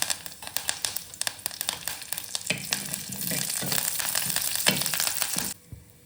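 Mustard seeds, dried red chilies and curry leaves hit hot oil for a tomato rasam tempering, giving a loud, crackling sizzle with sharp pops that cuts off abruptly near the end.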